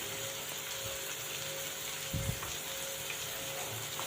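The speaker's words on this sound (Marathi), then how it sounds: "तर टोमॅटोही आपल्याला छान गाळ होईपर्यंत परतून" Two medium chopped tomatoes sauté in a pan for sambhar with a steady soft sizzle and a spoon scraping or knocking once.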